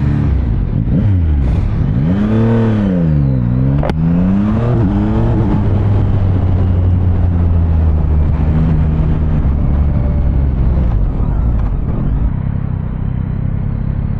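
A Yamaha Ténéré 700 motorcycle engine revs up and down several times, then settles into a loud, steady rumbling idle close by.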